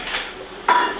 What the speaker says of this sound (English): Need to get my cast iron back on.